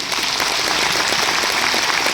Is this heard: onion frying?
no